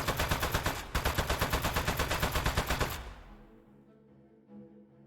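Rapid automatic fire from a lamp turret in the video game Aperture Desk Job, a steady burst of evenly spaced loud shots that stops abruptly, leaving a quieter electronic hum and tones behind.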